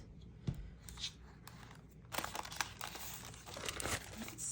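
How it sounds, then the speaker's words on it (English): A paper envelope from junk mail is pulled and torn apart up close, with a few soft crinkles at first, then a denser burst of crackling paper tearing and crumpling. "start by taking this envelope apart"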